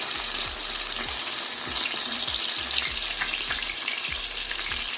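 Banga Mary fish frying Jamaican style in hot oil gives a steady, close sizzle and crackle, with soft repeated thumps underneath and no talking.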